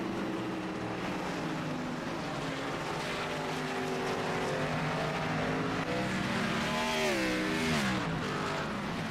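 Race cars lapping Watkins Glen in an Xfinity Series sim racing league, several engines droning and shifting pitch at a distance, with one car rising and falling sharply as it passes, steady and unbroken.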